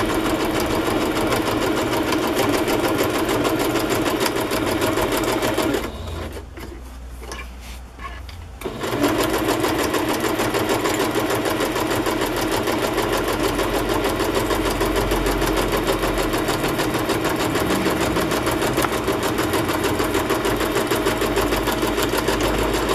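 Sewing machine running zigzag stitches along the raw edges of Kantha quilt fabric for a journal cover, a steady close whirring that stops briefly partway through, then resumes and runs continuously to the end, with no talk.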